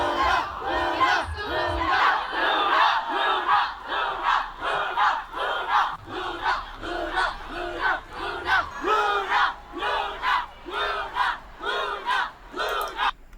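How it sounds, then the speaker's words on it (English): A large crowd of fans at KCON chants a K-pop group's name in loud, steady rhythmic bursts, repeating about every second with no speech over it. "at any given moment, the crowds would chant,"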